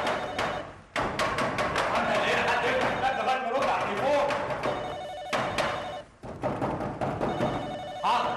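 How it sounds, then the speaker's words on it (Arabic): A telephone bell rings indoors in repeated loud bursts with short pauses between them, and voices overlap the ringing. "تعالي بس عشان ارد على التليفون"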